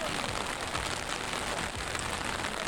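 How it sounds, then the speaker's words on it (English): Heavy rain pours onto a waterlogged car park at a Japanese car meet, a dense, steady hiss of drops hitting wet pavement with no pauses, loud and close, and no voices. "the rain got even heavier"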